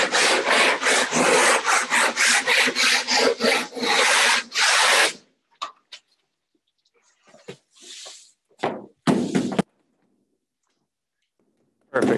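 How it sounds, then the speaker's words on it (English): Loose chips being scraped off a Liquid Granite epoxy floor coating, heard as a dense run of repeated rasping strokes for about five seconds, then a few isolated scrapes and taps with quiet gaps between. "So Mike's gone ahead and scraped."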